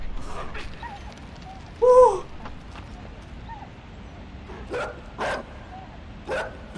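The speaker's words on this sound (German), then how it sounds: "Scheiße, scheiße, ein Hund, ein Hund." Dog barking in the video game Inside, a few sharp barks at mid distance, with one louder bark standing out over a quiet background and muffled sounds of movement.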